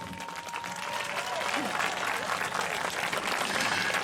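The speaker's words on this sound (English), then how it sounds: "So let's give them a round of applause." A crowd at the Melbourne Trans Pride March applauds the march co-founders outdoors, a rising wash of clapping that swells and holds, with some voices and cheers mixed in.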